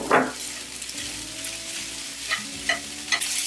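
Peas tossed into pineapple fried rice in a hot pan, giving a steady close sizzle with scraping stirs and a few sharper clatters of the spatula.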